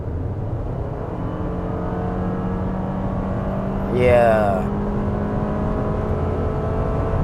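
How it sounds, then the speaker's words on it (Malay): A 2020 Toyota RAV4 SUV accelerating in normal drive mode, a steady low engine hum inside the cabin with a brief rising whine in the middle as it pulls, and a short spoken word near the start. "Dan kita cuba lagi pecutan. Kita tengok ni pada normal mode saja."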